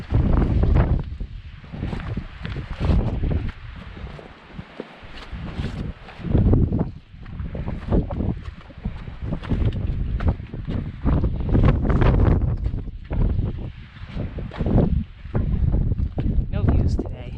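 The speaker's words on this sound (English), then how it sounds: "There's a little bit of wind" Strong, steady wind gusts buffet the microphone near the summit of South Twin, a cloudy White Mountains peak, with a continuous loud roar that swells and dips throughout.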